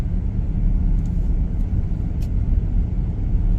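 A 2019 Chevrolet Express 3500 van with a 6-liter V8 and 6L90E transmission on a test drive, heard from the cabin as a steady, loud low rumble of engine and road noise that never lets up, with no talk.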